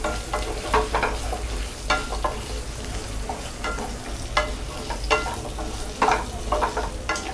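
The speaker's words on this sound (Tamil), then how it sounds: "இப்போ சின்ன வெங்காயம். இது டிரான்ஸ்பரண்ட் ஆகிற வரைக்கும் நம்ம வதக்கணும்." Small onions sizzle as they sauté in a pan for a country chicken curry, a continuous close frying hiss broken by regular scrapes and stirs of a spatula.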